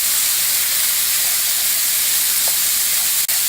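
Chorizo and potatoes sizzle in a pan with a steady, dense, loud hiss and a single faint click near the end.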